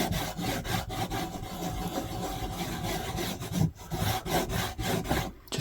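A block of green compound being rubbed onto a leather strop, making a close, continuous dry scraping with quick back-and-forth strokes.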